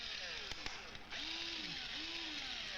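Power drill from a video game boring into a soda can: a loud steady whine with rising and falling pitch sweeps, preceded by a couple of sharp clicks.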